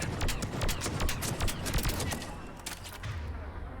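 Rapid bursts of gunfire from a favourite gun in the video game Mass Effect 3 crackle loudly and densely, easing slightly toward the end, with a voice speaking amid the shots.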